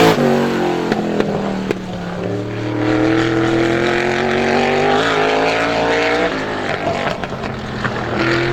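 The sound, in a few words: supermodified race car running time trial lap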